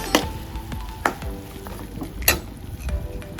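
Potato filling for samosas being stirred in a pan, with a few sharp scraping strikes of the spoon against the metal over a faint background sizzle, with no talking.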